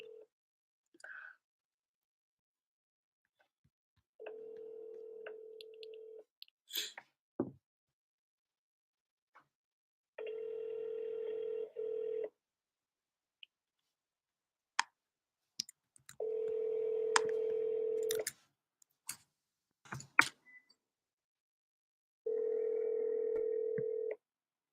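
A telephone call rings repeatedly before going to voicemail, four steady ring bursts of about two seconds each separated by pauses, with faint clicks and noises in the gaps and no voices.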